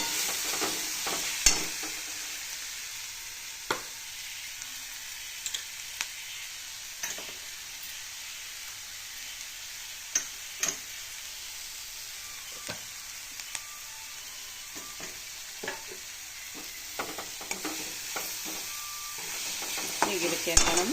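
Salted onions sizzle softly in a pan while a utensil stirs them, with a continuous low frying hiss broken by scattered scraping clicks and taps over a long stretch, and no speech.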